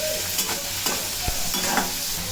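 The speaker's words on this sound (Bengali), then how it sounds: "পেঁয়াজটাকে ভাজা নেওয়া হচ্ছে।" Chopped onion and chilli frying in hot oil, a steady close sizzle with scraping stirring strokes, no talk.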